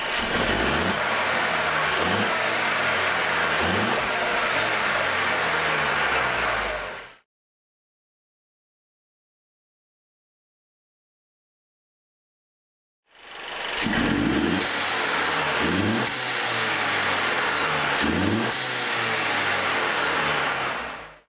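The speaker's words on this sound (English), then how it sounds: "the difference between the stock diverter valve sound compared to this diverter valve" A 2015+ Mercedes C300 W205 turbo engine revs loudly with rising and falling whooshes, then falls silent for several seconds before another stretch of revving with hissing diverter valve bursts.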